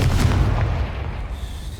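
A Confringo fire spell bursts in Hogwarts Legacy with a deep, booming explosion that rumbles and fades away over a couple of seconds, loud and close.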